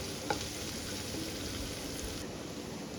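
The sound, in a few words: sautéing ginger chili paste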